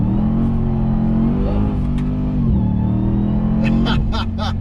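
A RAM TRX pickup truck engine drones steadily and loudly under load climbing a canyon hill in first gear, pitch shifting as it pulls; a few brief clatters near the end.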